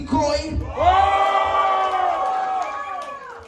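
Crowd at Club Gramophone freestyle rap battle cheering for battle rapper Neznamsikoi, a loud sustained chorus of shouting and whooping voices swelling after a brief lead-in, holding steady for several seconds before easing off.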